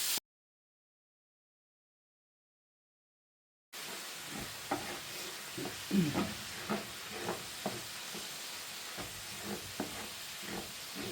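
Beef mince frying in a pan, steady sizzle and hiss after a silent gap, with repeated scraping and stirring knocks as the meat is broken into small pieces.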